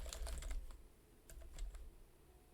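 Typing on a computer keyboard while programming, two quick bursts of close, clicky keystrokes separated by a short pause.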